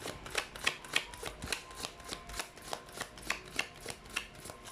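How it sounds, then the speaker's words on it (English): Glossy new tarot cards being shuffled by hand, about a dozen crisp riffling bursts in a steady rhythm, close and fairly quiet, with no voices. "Let's try to shuffle the cards."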